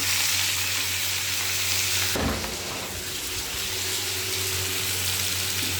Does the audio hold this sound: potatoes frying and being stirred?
yes